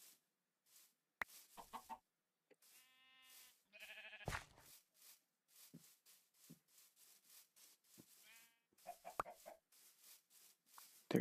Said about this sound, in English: Why is there so many sheep?